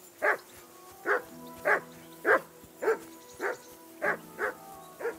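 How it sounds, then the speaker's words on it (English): A dog barks in the medieval video game Kingdom Come: Deliverance II, nine evenly spaced, moderately loud barks repeating steadily over a low background. "I assume you can hear that damn dog of yours barking."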